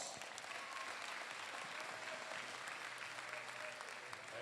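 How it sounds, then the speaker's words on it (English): A crowd in a school gym applauds the officials before a girls' regional semifinal basketball game, a dense, even wash of clapping heard from a distance and fairly faint, with faint voices mixed in. "Let's give them your applause."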